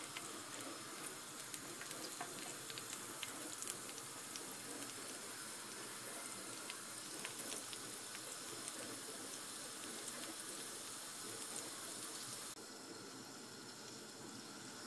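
Fat starting to melt in a pan with onion, garlic and tomato for a meat güveç, giving a steady, soft sizzle that runs continuously without talking and drops slightly in level near the end.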